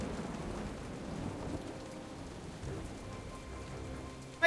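Steady rain and a thunderstorm rumble throughout in the Jurassic Park Telltale video game, a dense, continuous wash of falling rain with low thunder underneath and a sharp burst at the very end.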